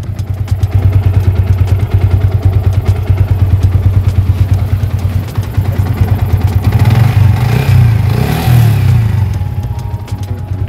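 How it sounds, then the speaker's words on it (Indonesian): A 150 cc fuel-injected motorcycle engine, about 73,000 km on the clock, runs at a steady, deep, bassy idle with a rhythmic pulse, then revs up briefly near the end before settling back. "Kita nyalain mesinnya."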